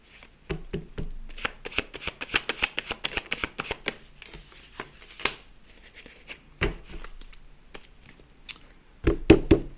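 Playing cards being handled and drawn, quick crisp riffles and flicks in uneven clusters, close by, with a denser shuffle near the end.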